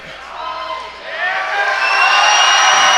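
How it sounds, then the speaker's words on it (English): A wrestling arena crowd at a heavyweight title match roars and whoops, the cheering swelling from a steady murmur into a loud, sustained wall of noise. "Listen to that crowd."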